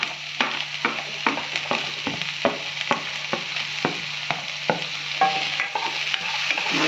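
Onion, green chilli and curry leaves frying in a pan for paneer sukka, stirred with a steady rhythm of sharp scraping strokes about every third of a second over a continuous close sizzle, with no voices.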